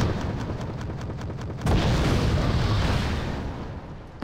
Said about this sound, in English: the enemy is even using artillery to try to kill the Longbows